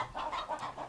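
Chickens clucking in a frontier settlement-building game, several short soft clucks in a quick uneven rhythm, faint and brief with no talking.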